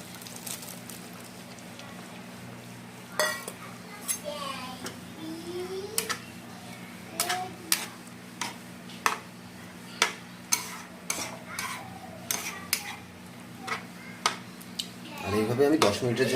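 Soybean chunks are stirred into a boiling curry gravy in a pot, with repeated sharp spoon clinks against the metal over a soft simmering hiss and a louder scraping burst at the end.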